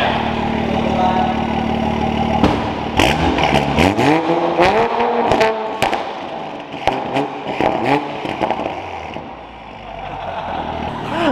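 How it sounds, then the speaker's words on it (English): Widebody Toyota Supra revving indoors, several sharp rising revs in quick succession, loud and close with a strong echo off the surrounding walls, settling back to a rough idle. "You should rev it in here real quick. This is gonna echo like crazy."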